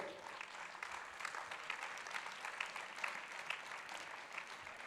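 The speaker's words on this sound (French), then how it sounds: "Sous vos applaudissements, s'il vous plaît." An audience at a housing-policy conference claps steadily and densely, a sustained round of applause filling the room with no voices standing out.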